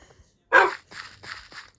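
A few dogs bark outdoors on a village walk: one loud close bark followed by three softer, evenly spaced barks, with no talking.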